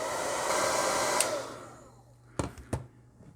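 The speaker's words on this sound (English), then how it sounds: "Hit it with the hair dryer again." A hair dryer blows steadily, loud and close, drying acrylic paint on a mecha model, then winds down and fades, followed by a couple of soft clicks and knocks.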